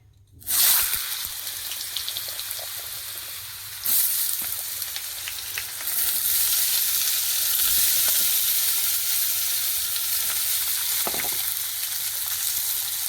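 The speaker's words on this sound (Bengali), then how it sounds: "তেল গরম হয়ে গেছে, আলু তুলে দিচ্ছি।" Cut potatoes drop into hot oil with a sudden bright sizzle that settles into steady frying, then swells louder again as more go in, close and continuous with no talk.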